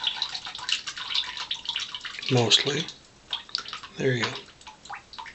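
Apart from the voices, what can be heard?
water draining from a soaked badger shaving brush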